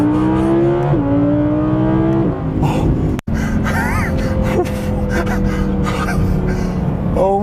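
An Audi R8 sports car accelerates hard at high speed, its engine droning loud and steady with rising pitch through gear changes, and a person gasps and exclaims over it.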